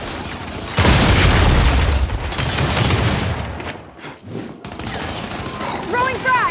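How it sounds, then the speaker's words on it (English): A frag grenade in Gears 5 goes off with a loud, close boom, followed by rattling gunfire and combat noise that fade into a brief quieter stretch before clattering effects return. "Throwing frag!"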